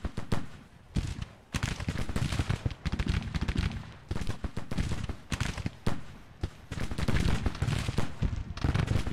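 Rolling musket volleys from a 2,200-man infantry brigade in a Civil War strategy game, with dense crackling gunfire bursts overlapping continuously, loud and sustained with brief lulls between waves.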